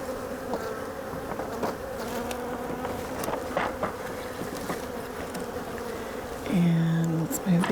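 Honeybees buzz around an opened hive as it is split, a busy close swarm hum with individual bees flitting past, and one loud bee droning right by near the end.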